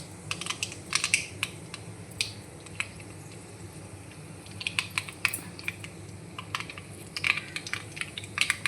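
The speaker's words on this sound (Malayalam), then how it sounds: "കടുക് പൊട്ടിക്കണേണ്" Mustard seeds pop and splutter in hot oil in a kadai while upma is being made: sparse, sharp crackles arrive in irregular bursts, close by, with no talk.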